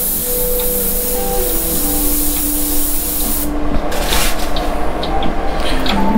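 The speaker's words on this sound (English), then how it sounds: "You can do that by always spraying perpendicular to your surface." Airbrush spraying paint onto a hat for graffiti-style art, a steady close hiss with a low background hum and a brief burst of sharper spraying toward the end.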